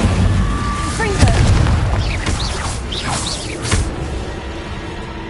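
Confringo explosive spell blasts in Hogwarts Legacy on PS5, a loud booming burst with whooshing magical swishes and crackles, with a voice calling out over the effects.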